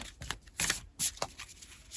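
Tarot cards being shuffled by hand, a few short papery riffles and slaps in quick bursts with brief pauses, close and fairly soft, no voices.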